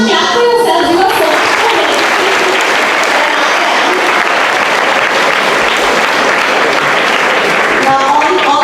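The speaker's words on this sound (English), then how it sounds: "Clap for yourselves." Students clap for themselves at a school event, loud and continuous with a dense even texture, with a voice heard briefly at the start and again as the clapping ends.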